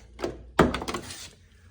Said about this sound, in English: you close the door